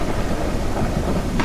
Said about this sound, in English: Whoa! Thunder and lightning again!